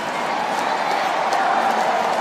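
A poolside crowd at an Asian Games 1500m freestyle swimming final sends up a continuous roar of cheering and shouting from the stands, steady and fairly loud throughout, with a commentator's voice mixed in.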